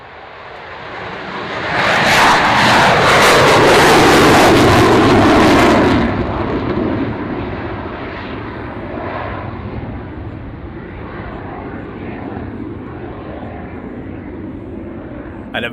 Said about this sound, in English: With a Dutch F-16 display from Waddington.